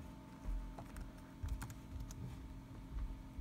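Quiet keystrokes on a computer keyboard while exiting an Ubuntu terminal, a short run of soft, irregular clicks under a low steady hum.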